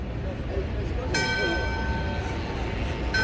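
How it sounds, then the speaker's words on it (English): Church bells ringing in an Italian street, two distant strikes ringing out with long resonant tails over a busy outdoor background of crowd and traffic noise. "Church bells coming."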